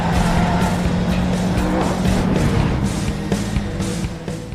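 Racing cars roar along a race track in a film, engines whining at high speed with tire squeal and skidding, loud and continuous before easing off near the end.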